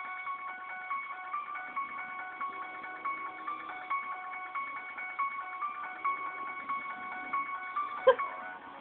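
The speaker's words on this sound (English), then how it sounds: "Play some Halloween music." Halloween music plays as a thin, tinny melody like a music box or small speaker, with repeating notes at an even pace and a single sharp knock near the end.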